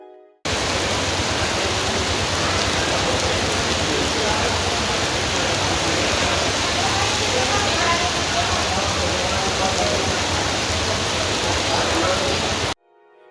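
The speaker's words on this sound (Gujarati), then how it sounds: "શહેરના ગ્રેઇન માર્કેટ અને ટાઉન હોલ સર્કલ સહિતના વિસ્તારોમાં ધોધમાર વરસાદ વરસ્યો છે." Heavy monsoon downpour over the grain market and town hall circle streets of Jamnagar, a dense, loud, unbroken roar of rain on hard surfaces that cuts in abruptly and holds steady.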